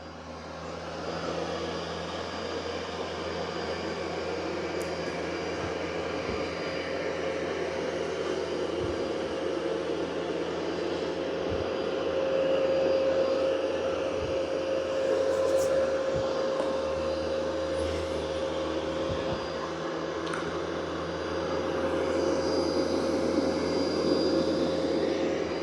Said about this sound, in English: I'm kind of surprised how quiet it is. And it is doing a good job of vacuuming.